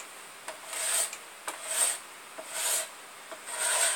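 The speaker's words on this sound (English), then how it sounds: "sometimes knots you got to scrape around different directions" Scraping yew wood around a knot while shaping an English longbow: four rhythmic rasping strokes, each about half a second long and evenly spaced, close and moderately loud, with no voices.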